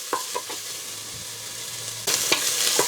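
Crushed ginger and garlic sautéing in a pan, a quiet hiss with a few light spoon taps, then a sudden louder burst of sizzling and stirring.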